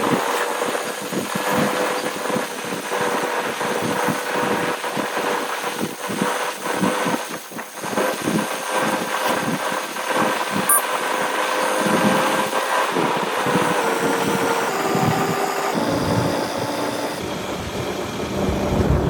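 A Suzuki Gixxer motorbike engine drones steadily while riding, blended with heavy wind rush across the microphone, loud and continuous with no talking.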